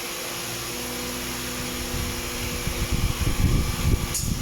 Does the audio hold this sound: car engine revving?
yes